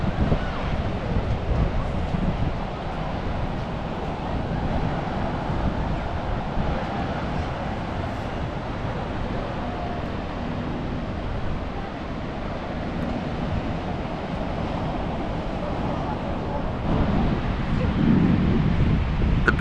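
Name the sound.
ocean waves breaking at Bondi Beach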